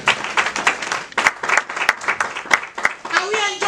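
A church congregation claps in uneven bursts, with sharp individual claps standing out, and a voice speaks near the end.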